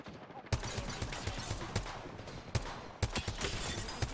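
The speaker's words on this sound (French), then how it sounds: "On me tire dessus." Rapid, continuous gunfire from an Apex Legends match crackles throughout, with sharper individual shots punching through around the middle and toward the end, fairly quiet overall.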